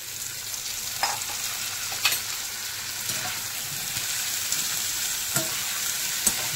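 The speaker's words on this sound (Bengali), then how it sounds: "এই যে কেটে রাখা আলুটা এবার এর মধ্যে দিয়ে দিলাম।" Onions and chopped potatoes frying in a pan for ghugni cooked with mutton fat, a steady sizzle with a few sharp scrapes and taps of a spatula stirring.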